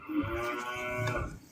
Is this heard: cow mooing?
yes